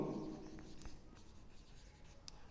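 Chalk or marker scratching on a classroom board as a maths teacher writes equations, faint short strokes with soft tapping, no talk.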